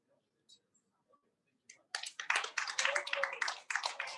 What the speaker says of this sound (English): Thank you very much for your applause.